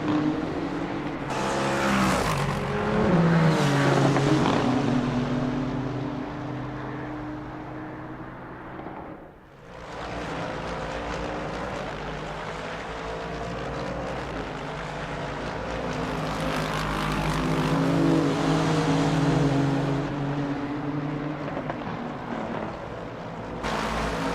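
GT3 race cars lapping Motegi in a racing game, engines roaring and shifting pitch through gear changes, a dip as one car passes, then a loud sustained high-revving drone from several cars.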